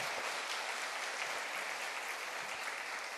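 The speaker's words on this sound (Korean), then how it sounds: "다시 한번 그 하나님 앞에 영광의 박수를 한번 뜨겁게 드리십시다" A church congregation applauds steadily throughout, a dense, even wash of many hands clapping that stays fairly distant and soft with no talk on top.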